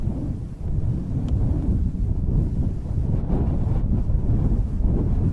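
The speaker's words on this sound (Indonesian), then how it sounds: "Hanya suara angin yang menyapu ilalang." Wind sweeps through tall grass on a mountain slope, a steady loud rushing roar with low buffeting gusts, no other sounds.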